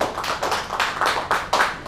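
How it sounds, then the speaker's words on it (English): A small audience gives a round of applause, a few sparse, distinct claps in an uneven rhythm, close and fairly loud, with no talking. "give him a round of applause, please"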